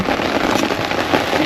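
Heavy rain drums hard on a clear tent during a severe storm, a loud, dense, crackling patter that fills the space with no voices.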